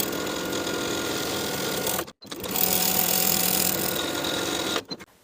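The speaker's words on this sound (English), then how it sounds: "Then I'll sew the pocket to the seam allowance underneath with about 1/8 inch seam allowance." A sewing machine stitches a cardigan pocket to its seam allowance in a steady, fast, close whirring run, with one brief stop partway and a stop at the end.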